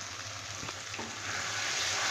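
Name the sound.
spice paste with chili powder frying and stirring in a pan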